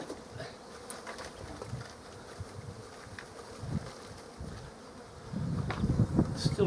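A package of honey bees being shaken into a hive: a steady, soft, close buzzing of many bees, with a louder surge of droning toward the end as the bees are tapped loose.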